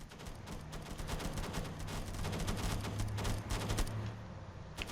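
Rapid turret gunfire from a video game base-defense battle, a dense sustained fusillade of overlapping shots at steady loudness with a low droning hum beneath, no voices.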